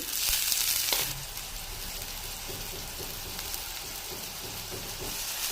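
Onions with cumin seeds and cloves frying in oil in a pan for a curry, a steady close sizzle with a louder crackling burst at the start settling into an even hiss.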